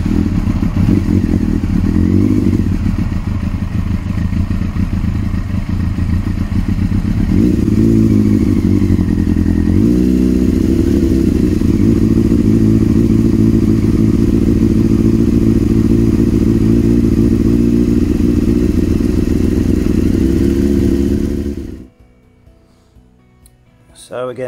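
An old carburetted motorcycle with a manual choke cranks, fires and settles into a loud, steady close-up running note that rises slightly midway, then cuts off abruptly near the end, followed by near silence.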